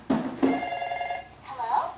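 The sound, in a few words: toy telephone ringing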